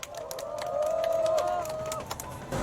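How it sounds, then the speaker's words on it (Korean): A small outdoor crowd at a press conference on disability funding claps scattered and moderately loud to welcome a National Assembly member, with some cheering and a brief high whistle-like tone over it. "큰 환영의 박수 부탁드립니다"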